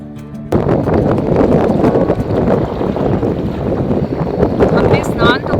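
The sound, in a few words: strong wind blowing at Ganga riverside camp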